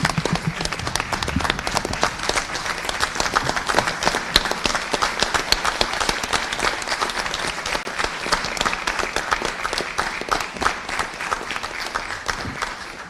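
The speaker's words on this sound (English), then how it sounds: "it's time to give everyone a big round of applause" An audience at a school board meeting gives retirees a long round of applause, a steady, even clatter of many hands that keeps going at a constant level without letting up, with almost no talk.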